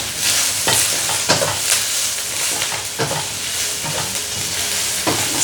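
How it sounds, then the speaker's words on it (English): Curry leaves and lemongrass stirred in a hot frying pan for a fish head curry, a loud continuous sizzle broken by repeated scraping strokes of the spatula, close and without speech. "stir it well."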